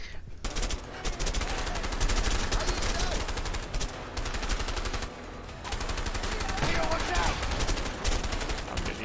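Gunfire in the co-op video game A Way Out: dense, rapid bursts and shots crackle almost nonstop at steady loudness, with only brief dips between volleys.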